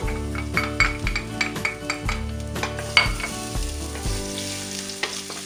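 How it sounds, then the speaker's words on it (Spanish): Garlic frying in oil in a pan for a pork tenderloin dish: a steady close sizzle broken by repeated clinks and scrapes of a utensil stirring against the pan. "Con ese aceite voy a echarle primero el ajo para que se fría un poquito."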